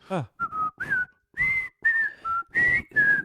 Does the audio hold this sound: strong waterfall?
no